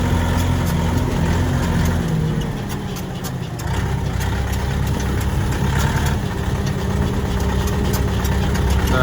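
A UHI tractor engine chugs steadily while the machine cruises around a block, a loud, close mid-pitched rumble with slight knocking texture and a brief dip in revs partway through, no speech.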